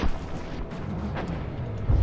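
Artillery shell landing in a naval battle video game, heard as dull booming rumbles and low thuds under a constant noisy background, with a heavier impact at the end.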